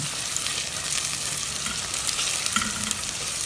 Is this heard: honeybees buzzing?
no